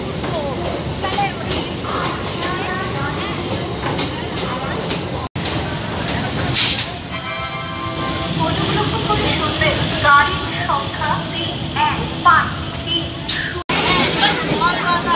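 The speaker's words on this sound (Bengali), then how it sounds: "এখন ট্রেন পৌঁছে গেছে রানাঘাটে" A commuter train runs on the Dum Dum to Ranaghat line in West Bengal, a steady rolling rumble with clattering under continuous passenger chatter, with two brief dropouts.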